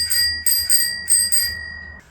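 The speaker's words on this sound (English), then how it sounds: "Ice cream bell" A homemade ice cream–style bell pieced together from broken bells, mounted on a Huffy Cranbrook step-through klunker bike, rings in four quick bright double strikes with ringing overtones, close and clear, then stops.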